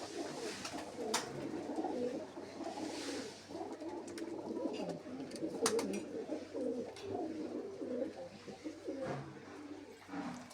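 Pigeons coo softly and continuously in a low, burbling chorus, with a few faint chirps and rustles mixed in.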